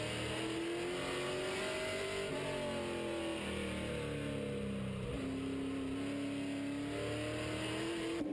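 An on-board race car engine at Jefferson racetrack drones steadily at high revs, its pitch sagging as the throttle eases for a corner and then climbing again, loud and continuous with constant road and wind roar.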